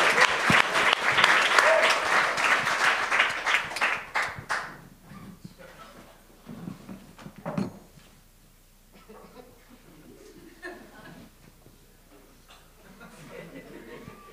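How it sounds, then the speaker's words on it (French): A television talent show audience bursts into loud applause with cheers for about four seconds, then the clapping fades out and someone speaks alone with scattered small reactions behind him. "On peut applaudir, on a le droit"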